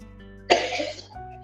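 One sharp cough bursts out at close range against a quiet room with a faint background hum, then fades into a short rough exhale.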